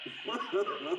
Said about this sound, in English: So now you can hear the loudest signal right now.